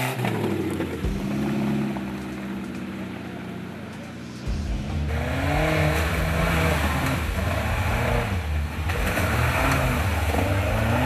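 Off-road jeeps churn through deep muddy forest holes on Lyulin mountain, engines revving hard and loud throughout, with pitch rising as throttle is floored and a surging roar in the later half.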